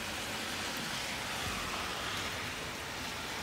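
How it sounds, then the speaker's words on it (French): A shower of graupel and sleet falls outdoors in early December, a faint, even hiss of soft pellets and wet snow that holds steady throughout. "c'est plus de la neige roulée ou du grésil, en fin de compte"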